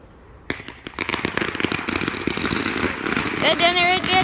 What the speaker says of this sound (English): Now, those are fireworks. Those are firecrackers.